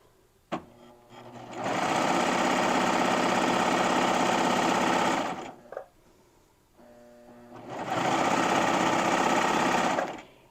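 A serger runs two loud, sustained bursts while sewing a basic shirt seam near the underarm, a dense mechanical whir each lasting several seconds, with a brief click before the first and a quiet gap between them.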